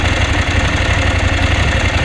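A motorcycle engine idles at close range with a loud, steady, even rumble that holds without a break.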